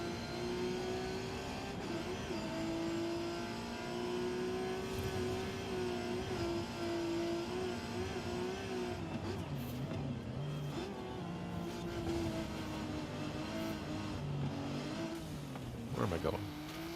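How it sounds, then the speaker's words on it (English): Turbo rally car engine with a 1,091-horsepower swap, driven in Forza Horizon 5, holds a loud, steady revving drone throughout, with rising and falling swells and a sharper burst near the end. "That engine sound, though."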